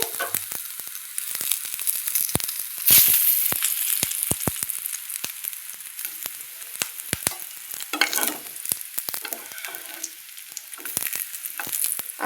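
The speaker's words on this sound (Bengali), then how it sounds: "তেলটা গরম করে আঁচটা কমিয়ে দিতে হবে, তাহলে কি হবে, ভাজাটা ভালো হবে" Katla fish omelette frying in oil over a lowered flame, a continuous close sizzle with frequent crackling pops and occasional scraping stir sounds, no voices.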